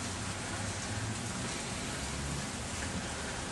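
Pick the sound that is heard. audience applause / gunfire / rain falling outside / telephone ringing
rain falling outside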